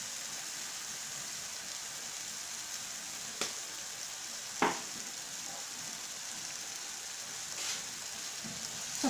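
Soy sauce sizzling as it is added to a frying pan, a steady bright hiss with a few sharp crackles and pops, close and alone.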